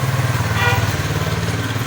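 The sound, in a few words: motorcycle pulling out from behind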